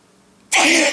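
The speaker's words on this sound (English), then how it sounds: "I was holding in a sneeze" A single sharp, explosive burst after a moment of near silence, loud and close, like a sneeze.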